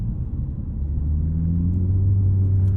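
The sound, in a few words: 2019 Chevrolet Malibu driving through a corner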